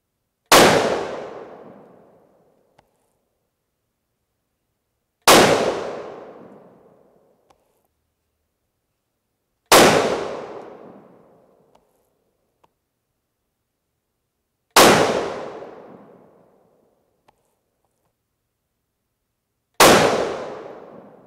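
Five evenly spaced rifle shots from a Remington 700 firing 90 grain Sierra Game Changer bullets over 45.0 grains of H4831 SC, each a sharp loud crack that rings out and decays, with silence between them.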